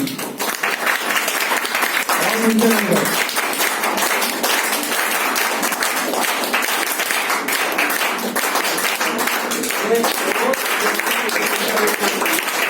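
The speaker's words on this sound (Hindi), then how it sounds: "200 तालियां बजनी चाहिए, रुकनी चाहिए।" An audience at a marketing training event in a hotel hall applauds continuously, a dense, loud, steady wash of clapping with voices faintly mixed in.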